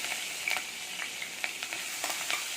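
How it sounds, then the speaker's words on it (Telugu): Ginger garlic paste, turmeric and curry leaves fry in a pan for a spicy egg fry, a soft steady sizzle with light scattered spatters and stirring taps, close but fairly quiet, no voices. "ఇప్పుడు అల్లం వెల్లుల్లి పేస్ట్, కొద్దిగా పసుపు, కొద్దిగా కరివేపాకు వేసి"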